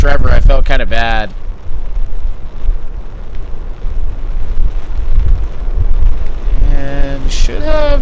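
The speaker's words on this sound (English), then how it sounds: "Wind definitely picked up for Trevor" Strong gusty wind roars across the microphone at an outdoor golf course on the Oregon coast during a championship round, with a person talking briefly at the start and end.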